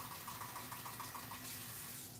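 Steady water from a tap running while a coffee pot is washed at a sink, a continuous close hiss and splash with no pauses throughout.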